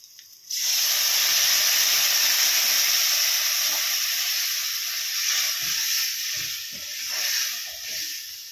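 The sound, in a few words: tamarind water added to a hot pan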